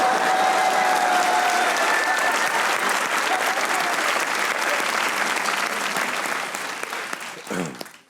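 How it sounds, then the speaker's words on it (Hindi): Loud, sustained studio-audience applause on a Pakistani comedy talk show, a dense wash of clapping lasting about seven seconds before thinning out, with a brief voice rising near the end. "एक बार मोमो के लिए तालियां होनी चाहिए"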